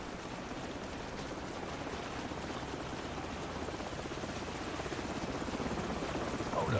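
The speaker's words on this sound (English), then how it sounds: "Hold on, the helicopter's back." Helicopter overhead in Call of Duty 4: Modern Warfare gives a steady, pulsing rotor chop that grows gradually louder as it approaches.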